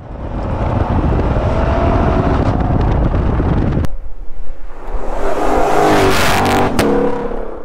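A Shelby GT500 engine on the move, loud and close, with a rumbling drone that breaks off abruptly midway and then rises again in a revving surge, all mixed with wind noise.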